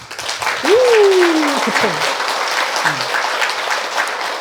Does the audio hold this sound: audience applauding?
yes